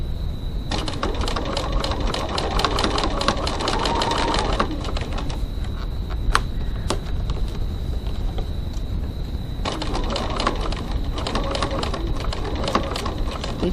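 A sewing machine runs a long basting stitch along the zipper of a crossbody bag, a fast, close, steady rattling whir in two bursts separated by a quieter pause of several seconds.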